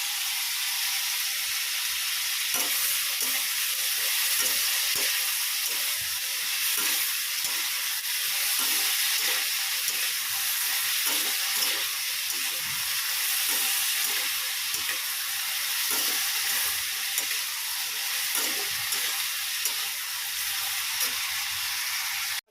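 Water for tea heating toward a boil on a stove gives off a continuous steady hiss, with soft intermittent ticking and bubbling pops scattered throughout; no voices.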